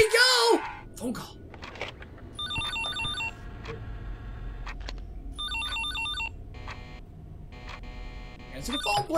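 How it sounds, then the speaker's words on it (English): A phone rings in the horror video game Five Nights at Tubbyland 3, two bursts of an electronic trilling ring over a low ambient hum, with a brief voice and clatter before it. "Answer the phone, please!"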